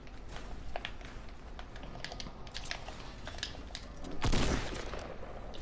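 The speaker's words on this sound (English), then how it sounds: "Somebody's shooting me." Gunfire in the Fortnite battle royale video game, with dense rapid shots crackling through the scene and a louder burst near the end, no talking.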